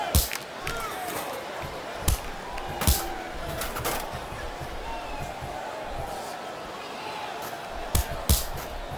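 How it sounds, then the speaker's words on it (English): A wrestling arena crowd roars in WWE SmackDown vs. Raw 2008, a steady wash of noise punctuated by sharp slams and impacts on the ring at irregular moments. "This capacity crowd is certainly getting its money's worth here tonight."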